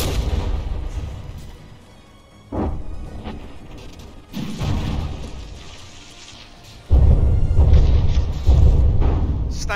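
Battleship guns firing in the naval combat game From the Depths, with heavy booming salvos that open into a sustained loud roar of repeated gunfire and explosions, no talking.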